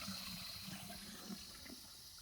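Gray water from an RV tank flushes into a dump hose at a campsite, a steady close rushing and gurgling wash of water that continues unbroken with no talk.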